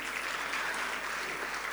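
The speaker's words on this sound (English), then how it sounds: "I think that deserves an enormous round of applause." Applause from guests at a 70th birthday celebration dinner, a brief dense patter of clapping heard at moderate level with no voices over it.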